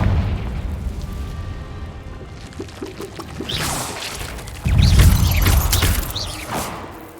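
A Confringo blasting curse bursts in Hogwarts Legacy, a loud booming explosion with a rushing, crackling tail that swells midway through and fades over several seconds, following quieter rumbling and mechanical clatter.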